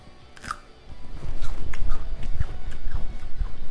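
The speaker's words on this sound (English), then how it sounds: "You hear that crunch?" Crisp crunching bites into a snack dipped in ranch, several close, loud crunches in an uneven chewing rhythm after a quiet start, no voice.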